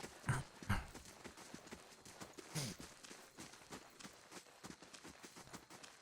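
Horse hooves clip-clop in a steady walking rhythm in the game Pillars of Eternity, faint and even, with a few louder knocking steps near the start.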